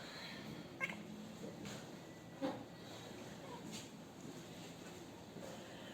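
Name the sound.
cat meowing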